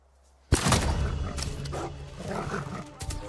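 A dog in the video game Ghost of Tsushima gives loud, snarling barks and growls amid a busy game soundscape, starting abruptly after a brief quiet moment and continuing with bursts of activity.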